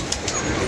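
Pigeons cooing close by, a couple of soft throaty coos over steady background hum, with no talk.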